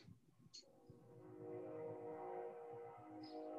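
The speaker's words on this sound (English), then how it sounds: "Can you hear the train?" A train rumbles past at a distance, a low steady roar with faint horn-like tones that swell gradually and hold, and no talk.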